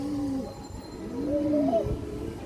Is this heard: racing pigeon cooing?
yes